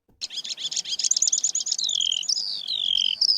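Bright, rapid chirps and whistled trills from a singing nightingale, close and clear, forming a quick run of notes that slides into long descending whistles, with no other sounds.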